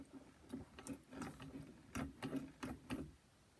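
A 1940s Essex hand-cranked chain-stitch sewing machine makes a faint, close, rhythmic ticking and clicking as its wheel is turned by hand.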